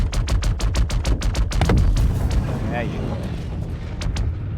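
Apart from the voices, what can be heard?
gunfire destroying buggy in video game Star Citizen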